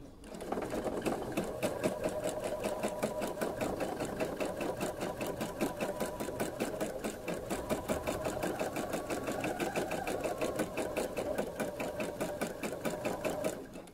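A sewing machine running continuously for free motion quilting on an autumn fox design, with a rapid, even needle chatter and motor whir sustained at close range throughout.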